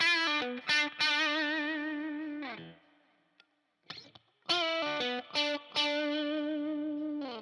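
Distorted Fender Ultra II Stratocaster electric guitar played through its five-way pickup selector positions, short sustained chords and notes in bursts, with a brief gap of near silence midway before the playing resumes.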